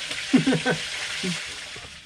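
Wild dove meat frying in a pan with pepper, a steady close hiss of sizzling oil running throughout, with a few soft stirring scrapes near the start.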